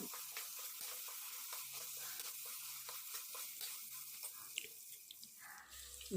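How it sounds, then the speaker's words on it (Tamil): Soaked peas and chopped vegetables sautéing in a pan, with a gentle sizzle under repeated scraping and stirring strokes of a spatula at an uneven rhythm, close and moderately quiet, with no talking. "இதையும் நல்லா பச்சை ஆசனை போகிற வரைக்கும் வதக்கி விட்டுக்கலாம்"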